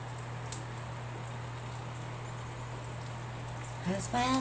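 A steady hiss of rain falls over a constant low hum, with a voice coming in briefly at the very end.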